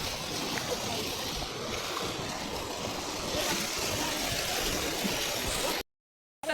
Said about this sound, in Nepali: खोला कल कल